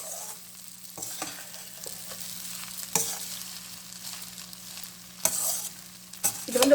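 Mango rice being stirred in a pan, soft scraping and turning sounds in irregular strokes with a couple of sharper clatters, under a low steady hum and a faint background sizzle.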